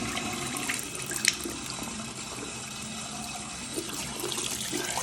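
Hot water runs steadily from a newly installed Pfister widespread bathroom sink faucet, a constant close splashing stream with a small clunk early on and no speech.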